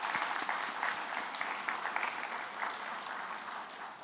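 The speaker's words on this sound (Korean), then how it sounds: "여러분 박수 한번 부탁드리겠습니다" A church congregation at a Sunday afternoon joint worship service applauds together, a soft and somewhat distant crackle of many hands that stays even and continuous.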